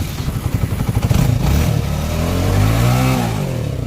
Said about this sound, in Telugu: చూడండి ఒకసారి బండికి సౌండ్